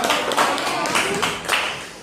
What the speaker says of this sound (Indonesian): beri tepuk tangan untuk kelompok satu, kelompok Jawa